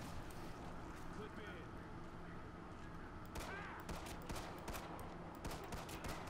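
Shotgun blasts crack repeatedly in the Killing Floor 2 shooter, with a cluster of sharp, irregular shots in the second half, heard under players chatting.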